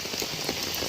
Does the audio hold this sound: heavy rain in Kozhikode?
yes